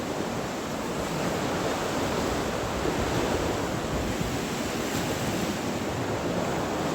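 Water of the Saraswati river at the ghat in Prachi rushes in a dense, unbroken roar, steady and moderately loud throughout with no voices.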